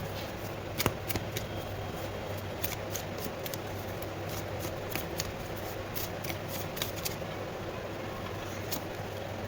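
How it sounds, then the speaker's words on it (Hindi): Tarot cards are shuffled and drawn, giving quick, faint papery flicks and snaps scattered irregularly over a steady low background hum, close by, with no voices. "थोड़े से फीलिंग्स, थॉट्स, इंटेंशंस के कार्ड्स निकालते हैं हम।"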